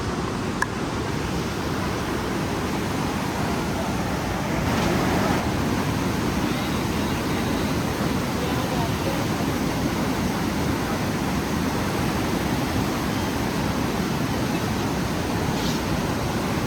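A river flowing beside a road on a family trip in Kerala: a steady, dense rush of water that holds at an even level throughout, with no talk over it.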